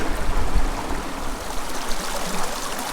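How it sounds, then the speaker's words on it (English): A small creek in the Golden Trout Wilderness babbles and trickles steadily nearby, a continuous rushing water sound with no voices. "This is just the prettiest little creek."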